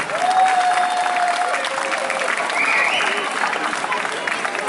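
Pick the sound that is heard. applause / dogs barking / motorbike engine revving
applause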